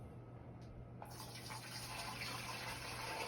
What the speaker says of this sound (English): let's get this water into the sprayer so we can start giving our